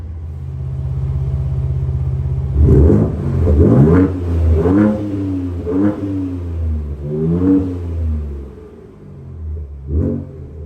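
A 2023 Ford Ranger Raptor pickup engine idles in sport mode, then revs up in several strong rising bursts, each climbing in pitch and falling back, loud and close, with a final short blip.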